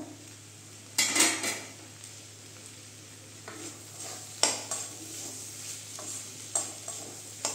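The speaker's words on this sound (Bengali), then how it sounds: "10 মিনিট হয়েছে, ঢাকনাটা আমি তুলে দিচ্ছি এবার।" A pot lid lifted from simmering papaya dal on a Bengali stove, with sharp metallic clinks and scrapes standing out over a steady low hum and a faint sizzle.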